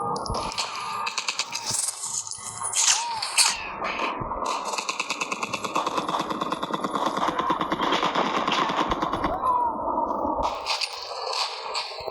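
Video game gunfire, rapid bursts of shots and clattering cracks in a dense, close stream, with brief sharper bangs standing out.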